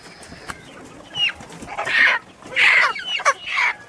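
A chicken clucks during a poultry breed inspection, giving a run of loud, close clucks and squawking calls in uneven bursts with no talk.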